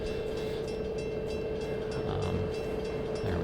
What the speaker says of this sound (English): There we go, another train going by.